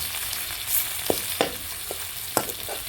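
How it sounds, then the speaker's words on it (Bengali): Chopped onion fries with bay leaf and whole cumin in oil in a pan, a steady close sizzle with occasional sharp pops and spatula scrapes. "ফোড়নের পেঁয়াজটাকে আমি হালকা বাদামি করে ভেজে নিব"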